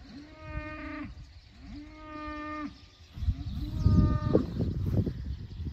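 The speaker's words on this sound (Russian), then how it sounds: "Коровки пришли к дому, какой-то бык там заблажил" A Hereford bull bellows three times on a farm in long, deep, drawn-out calls, loud and close, the last one rougher and mixed with rustling noise.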